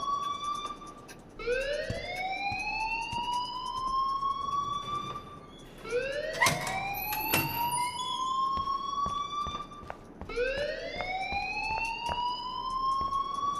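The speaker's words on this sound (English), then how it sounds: "please turn off that alarm since that's your job" Fire alarm in Life is Strange, a loud rising electronic siren sweep repeating about every four seconds, with a brief clattering burst between cycles.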